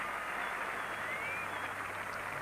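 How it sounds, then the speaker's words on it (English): Cricket crowd at a 1981 England v Australia Test applauding a Graham Gooch boundary; steady, distant broadband clapping sustained throughout, with no talk over it. "Great applause."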